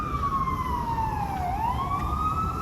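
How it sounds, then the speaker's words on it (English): A police or ambulance siren wails past, its tone sliding down and then climbing again as it goes by, loud and steady over a low traffic rumble. "you always hear like the cops or the ambulance, like for real, ain't mad loud with it too"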